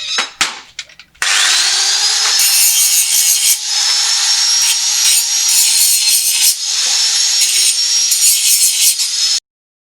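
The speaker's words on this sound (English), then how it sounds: "now we just need to get all the burrs and the ends grinded off" An angle grinder grinds burrs off the ends of steel box section, a loud, close, high-pitched whine that spins up and holds steady with brief dips as the disc bites the metal.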